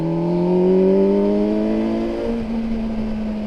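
A Kawasaki Versys 1000 SE motorcycle engine pulls hard in 3rd gear, its loud, steady whine rising smoothly in pitch as it accelerates, heard alone with no voices.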